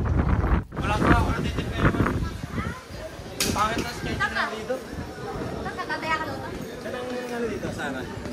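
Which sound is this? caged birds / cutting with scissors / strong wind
strong wind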